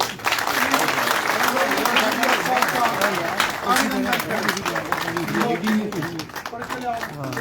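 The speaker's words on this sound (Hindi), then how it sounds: "जोरदार तालियों के साथ" Loud crowd applause at a political rally in Jammu, dense continuous clapping mixed with crowd noise and chanting voices throughout, fading slightly toward the end.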